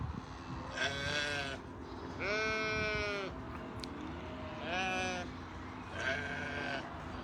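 Sheep bleat several times on a farm, four separate drawn-out calls with quiet gaps between them, fairly close and clear over a low background hum.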